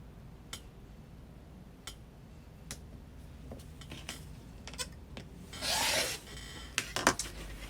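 A rotary cutter slices fabric corner to corner on a layered cutting mat for a quilt block, giving soft rasping strokes and light ticks, then a louder drawn-out cut near the end, all close and quiet with no voice.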